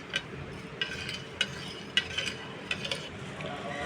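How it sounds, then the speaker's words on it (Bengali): Dough ingredients with salt and sugar are stirred in a bowl, a series of short scraping clicks and taps at an uneven rhythm, close but fairly quiet over a low background. "সবগুলো উপকরণ খুব ভালোভাবে মিক্স করে নেব"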